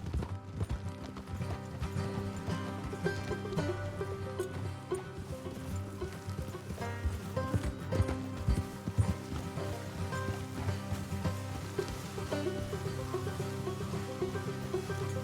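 Horse hooves clip-clop in a steady rhythmic gait over a background of game music in Red Dead Redemption 2, with a horse briefly whinnying.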